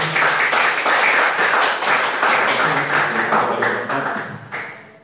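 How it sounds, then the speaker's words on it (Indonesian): A classroom group in a civic education session applauds the first speaker with dense, continuous clapping that holds steady and then tapers off near the end. "Oke, aplaus buat narasumber 1."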